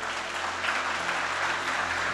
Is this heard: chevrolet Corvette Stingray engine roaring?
no